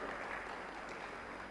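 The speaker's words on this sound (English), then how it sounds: "Please give a round of applause." A round of applause from an audience, faint, steady and distant, a continuous wash of many hands clapping with no voices standing out.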